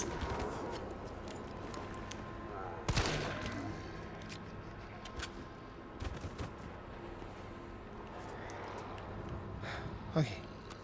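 Gunfire from the video game Resident Evil 3 pops sporadically over a busy, dense game soundscape, with a few louder sharp shots standing out and a voice briefly audible.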